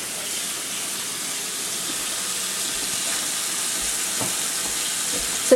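Running water rinsing overnight-salted cabbage for kimchi, a steady close hiss of flowing tap water throughout with a few soft splashes and handling knocks, no talking.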